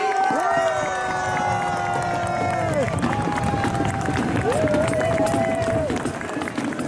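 A crowd at a medieval festival at the Abbaye de Villers-la-Ville applauds the winner of a combat bout, with steady dense clapping throughout, while held melodic tones sound over it and voices mingle in the background.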